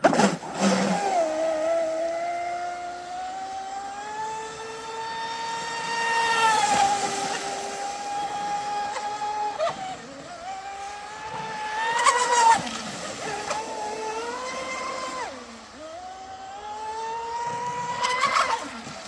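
A 17-inch MHZ hydroplane RC boat fitted with a new three-blade prop makes a whining electric-motor run, pitch rising and falling as it accelerates and turns around a lap, sometimes near, sometimes farther off.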